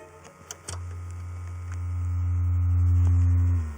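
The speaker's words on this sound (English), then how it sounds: "I've got here a generator to make a sine wave, some noise, and that's fed to an amplifier and into a loudspeaker." A signal generator is switched on with a click and drives an amplifier and loudspeaker, giving a loud, steady, low electronic hum that swells and holds before cutting off.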